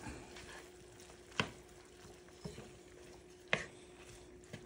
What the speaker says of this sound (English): Mix that in pretty good.